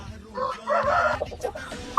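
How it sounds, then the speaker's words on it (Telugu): Chickens cluck and squawk close by in a short, uneven burst of calls, with faint background noise. "మంచి టెంపర్ గల కోడి పిల్లలు అండి ఇవన్నీ"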